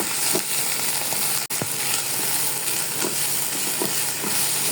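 Garlic and ginger paste fries in oil, a loud, dense, continuous sizzle that stays steady throughout, broken only by one very brief dropout, with no voices.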